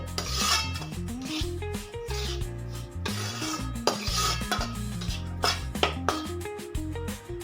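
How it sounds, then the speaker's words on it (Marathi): A spoon scrapes and stirs semolina with grated coconut roasting in a pan over medium heat, a steady rasping and clinking close up under faint background music, with no talk. "आता खोबऱ्याचा किस सुद्धा आपल्याला रव्यासोबत आहे ना थोडासा कच्चेपणा जाईपर्यंत मीडियम गॅसवरती भाजूनच घ्यायचा आहे"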